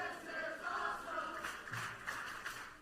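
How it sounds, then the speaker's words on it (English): A wrestling crowd reacts during a match, producing a faint, distant swell of mixed shouting and cheering that rises and falls over a few seconds. "And this crowd lets them know how they feel."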